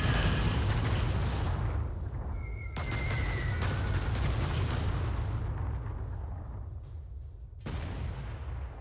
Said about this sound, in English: I'm going to take on their strongest tank and bomb it twice.